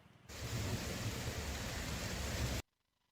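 Heavy rain pours down in Chengannur, Kerala, as a dense steady hiss that starts abruptly and cuts off after a couple of seconds, with no voices.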